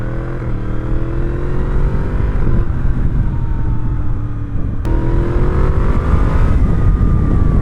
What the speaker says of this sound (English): Really nice amount of power out of this 999cc Crossplane inline 4